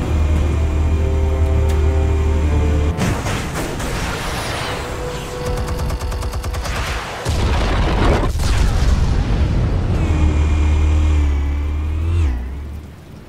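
Explosives going off in the Batman Telltale Series, loud booms and rapid crackling blasts over rumbling engine-like roars and mechanical drones, dense and continuous.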